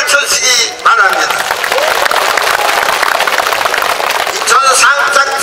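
Crowd applause at an outdoor political rally in Incheon, a loud, sustained wash of clapping and cheering that rises after a brief dip and holds steady, with voices mixed in near the end.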